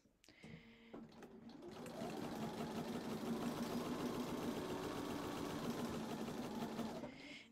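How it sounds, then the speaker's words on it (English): A sewing machine stitches a quilt's half-square-triangle seam, starting after a brief click and running in a steady, close, humming whir for about six seconds before slowing. "now I'm going to sew it again the same way that I did before"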